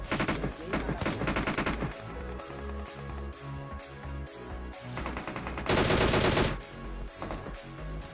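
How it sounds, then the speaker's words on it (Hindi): Gunfire in the mobile game PUBG Mobile: rapid automatic bursts and single shots crackle loudly and almost continuously, with a denser, louder spray near the end. "पीछे से भी गोलियां चल रही थी"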